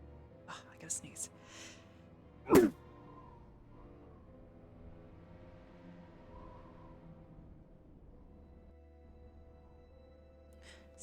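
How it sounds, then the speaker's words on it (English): A single sharp sneeze bursts out about a quarter of the way in, loud and close, set against a quiet room with a faint steady hum and a few soft breathy sounds before it. "Ah, I gotta sneeze."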